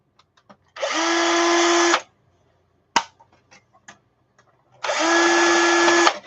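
A power drill drives screws in two loud, steady whirring bursts of about a second each, separated by a sharp click and a few small taps in a quiet room.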